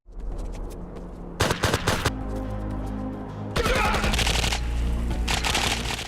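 Rapid weapon fire and explosions from the late-1990s shooter game Project IGI: a dense burst of automatic shots, a pause with a low rumble, then a longer sustained volley, loud and close.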